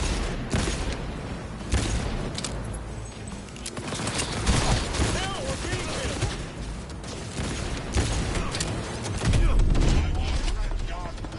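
Rapid gunfire from Cyberpunk 2077 on a base PS4 rattles in dense bursts across the whole stretch, loud and continuous with heavier booms near the end, while someone talks over the shooting.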